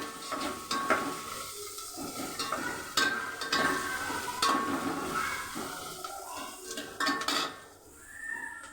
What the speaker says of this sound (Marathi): टमाटा टाकायचा, फ्राय करते नाही कांदा आणि हिरवी मिरची